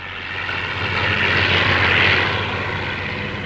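Propeller airplane flying low overhead, a loud steady engine drone with a buzzing prop tone that swells toward the middle and eases off, no voices.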